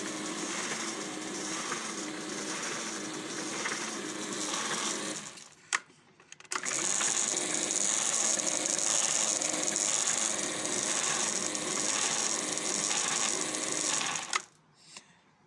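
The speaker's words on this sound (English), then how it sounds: "And the only noise from it is the chain." A continuous, rattling chain clatter from the drive chain of a DIY compost sifter trommel, running steadily at close range, cutting out briefly midway before resuming.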